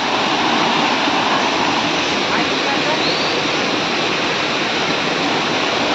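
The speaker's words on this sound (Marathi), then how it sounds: "पाण्याचा बहाव बघा केवढा फास्ट आहे." Fast-flowing river water in the Konkan, where crabs are being caught, rushes as a loud, steady, broadband roar that fills the whole stretch without a break.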